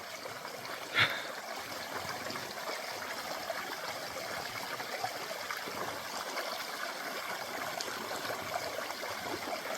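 Year-round mountain spring water trickles steadily along a trail, a soft, continuous outdoor flow with one brief louder click near the start and no talking.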